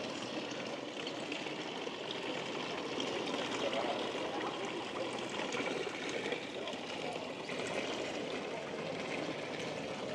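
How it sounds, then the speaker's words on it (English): Water from a public drinking fountain in a village square pours in a steady, broadband splashing rush that stays close and continuous throughout. "This is a famous fountain here. It is good potable water."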